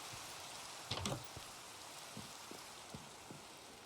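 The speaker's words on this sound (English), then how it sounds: "Thanks for the loud rain." Steady rain hisses softly throughout in the video game Minecraft, with a few scattered drip-like taps and one brief louder patter near the start.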